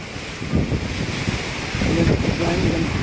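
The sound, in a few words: strong wind from Typhoon Tino in Iloilo City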